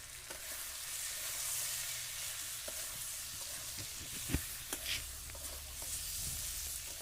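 Meat fries in a pan under a low, steady sizzle, with scattered clicks and knocks as it is stirred, moderately faint throughout.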